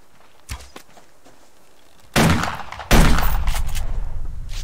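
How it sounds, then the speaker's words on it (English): Standard shotgun shells fired in the survival game Subsistence: a sharp, loud blast, then a second heavier blast about a second later. Each is followed by a rumbling tail with faint clatter. "I went for body, and that was standard shotgun shells"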